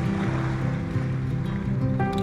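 Ocean waves in salt water wash in a steady, close, loud surge of broadband noise with a low rumble, heard alone.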